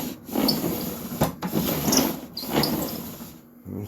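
Outfeed table for a Milwaukee M18 Fuel tool setup sliding back and forth across a surface, a close rhythmic rubbing and scraping in several repeated strokes.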